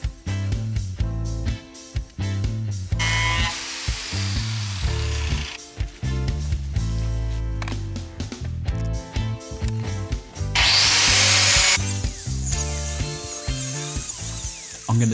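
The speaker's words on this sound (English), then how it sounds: "Now to cut the slots on both the tabletop and the edging for the biscuits to go in." Biscuit cutter slotting a wooden outdoor tabletop and its edging, loud high whining cuts in short repeated plunges separated by clicks and handling noises, with a longer louder cut near the end.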